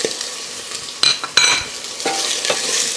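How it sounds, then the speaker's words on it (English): Pork belly sizzles and crackles as it stir-fries in a little oil in a hot pot, with a steady frying hiss broken by a few louder scrapes and clatters of stirring. "And now I'm going to stir fry the belly pork"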